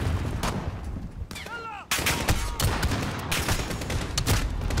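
Rapid bursts of gunfire from the video game Modern Warfare crack loudly and close, broken by a brief lull with a whistling sweep before heavy firing resumes.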